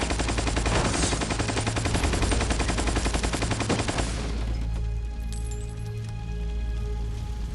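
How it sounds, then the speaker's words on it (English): Rapid automatic gunfire in the video game Metal Gear Solid 3 Snake Eater, a dense loud rattling burst for about four seconds, then fading into softer crackling and game ambience, no talk. "Why are the bullets coming out like that?"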